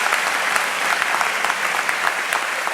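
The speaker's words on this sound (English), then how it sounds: "Please give them a deserved round of applause." Sustained audience applause fills a high school graduation ceremony, a dense, steady wash of many hands clapping at even loudness with no talk over it.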